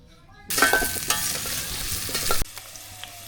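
Onions and dried fish frying in hot oil on a new stove give a loud, dense sizzle with stirring clatter for about two seconds, then cut off abruptly to a quiet background.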